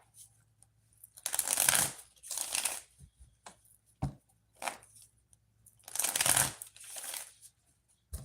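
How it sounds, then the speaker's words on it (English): Tarot cards are shuffled in several separate close, crisp bursts with quiet gaps between them, including a longer riffle near the middle-end and single card snaps. "But let me pull some cards."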